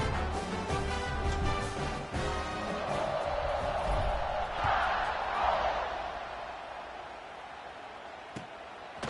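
Stadium crowd in College Football 26 at an Iron Bowl kickoff, a continuous roar of many voices that swells partway through and then eases, with a couple of sharp knocks.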